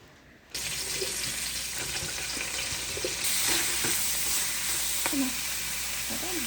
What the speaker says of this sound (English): And you want to give them a good rinse.